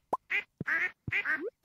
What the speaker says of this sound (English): Hi, ducks.